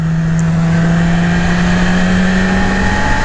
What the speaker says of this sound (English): I know y'all hear this bike.